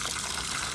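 Running tap water splashes steadily over freshly dug turmeric roots being washed at home, a brief continuous gush up close.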